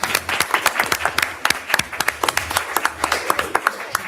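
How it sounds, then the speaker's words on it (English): A small audience at a county board of education meeting claps in scattered, uneven bursts, with sharp individual hand claps sounding near and fairly loud. "give me a round of applause"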